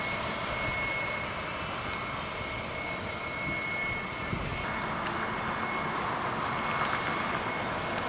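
Small airplane landing at Addison airport, a faint steady engine drone heard from a distance with a thin tonal whine, fairly constant throughout.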